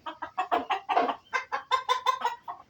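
Fayoumi hens cluck close by in a quick rhythmic series of about a dozen short, throaty notes, some stretching into longer drawn calls, with no voices present.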